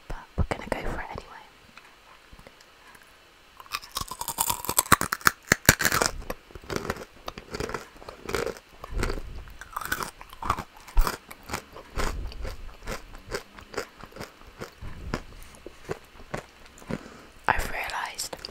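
A crunchy mustard-flavoured snack is bitten and chewed close to the microphone in an ASMR setting, with repeated loud crunches and crackling between soft whispering.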